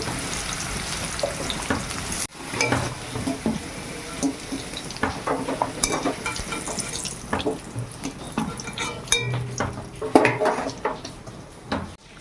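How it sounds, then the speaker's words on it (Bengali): Sweet pumpkin frying in hot oil gives an uneven crackle and sputter, with bursts of spatter and clattering pan noise throughout. "এবার মিষ্টি কুমড়োটা ভেজে নেব।"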